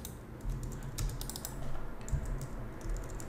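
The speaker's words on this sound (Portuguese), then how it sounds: "Estou digitando muito certo aqui." Rapid, steady typing on a computer keyboard while writing code: dense, close clicking keystrokes with a few louder taps, playing alone with no talk.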